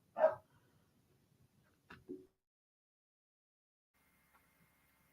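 A dog gives one loud bark close by, then two shorter, quieter barks about two seconds later, with near silence in between and after.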